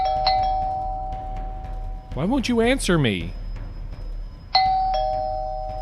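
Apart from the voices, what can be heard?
doorbell ringing repeatedly, story sound effect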